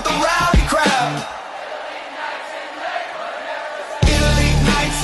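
Rowdy crowd at a pro wrestling event in Lakewood, a dense roar of yelling and whoops that swells at the start, eases through the middle and surges loudly again near the end.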